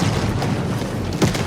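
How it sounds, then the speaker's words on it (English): A large explosion at an oil refinery, a deep, rumbling boom carried under a dense roar, with a sharper low thud near the end, and no voices. "and there was a large explosion."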